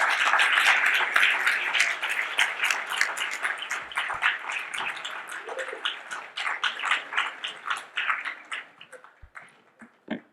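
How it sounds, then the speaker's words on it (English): A festival audience claps to welcome speakers onto a stage: a dense burst of applause that thins into scattered individual claps and fades out toward the end. "welcome them to the stage with a huge round of applause"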